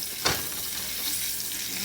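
Loose sausage meat without casings sizzles steadily in a hot pan as a mix and chop tool scrapes through it, one sharp scrape near the start over the continuous close frying hiss, no talking.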